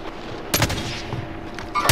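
Bursts of PPSh submachine gun fire in a video game, a loud rapid volley near the start and another short burst at the end, over steady background game noise.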